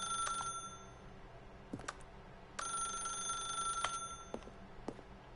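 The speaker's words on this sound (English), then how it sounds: "As Stanley picked up the phone" A telephone in a video game rings in several bright electronic trills separated by short pauses, clear and fairly quiet over a low background hum, with no speech.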